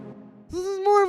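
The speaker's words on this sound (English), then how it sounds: "But yeah, so the next thing we have here are the chords, which sound like this." Dark melodic techno synth chords form a sustained background layer, a tonal pad with stacked harmonics entering after a brief low note and holding steadily, clear and upfront with no voices.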